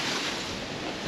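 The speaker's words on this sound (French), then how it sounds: "oh le vent. On a du vent" Wind gusts buffet the microphone outdoors in a home vegetable garden, a brief, loud, steady rush of broadband noise with no voices.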